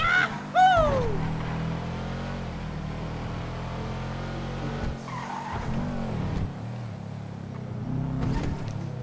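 Engine and tire noise of a car in GTA V being driven and pulled in to park, a steady motor drone with a sharp tire squeal near the start and shifting revs as it slows to a stop.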